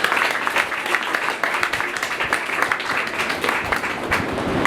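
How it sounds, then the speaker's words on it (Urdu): A church congregation breaks into loud, sustained applause, dense clapping from many hands continuing without pause. "آئے زوردار تالیاں."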